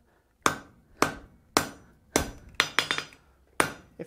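A hammer strikes hot metal on an anvil during forging practice, seven sharp ringing blows spaced about half a second apart, with a quick cluster of lighter taps near the end, close and loud with no talk.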